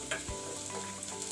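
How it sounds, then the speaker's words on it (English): Onions fry in oil for pilau and are turned until golden brown, a soft, steady sizzle with a couple of light utensil scrapes and clinks, close but quiet, with no talking. "Turning the onion to avoid it from burning and also to cook well both sides"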